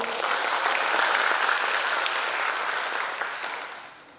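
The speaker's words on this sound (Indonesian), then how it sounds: "Tepuk tangannya dong." A theatre audience at the Wayang Orang Sriwedari building claps loudly in sustained applause that holds steady, then gradually tapers off toward the end.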